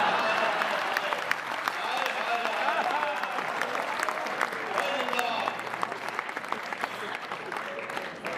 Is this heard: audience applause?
yes